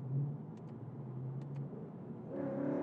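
A car engine is driven hard, its low rumble building and revving up near the listener, then jumping to a higher, harsher pitch toward the end as it pulls through the gears.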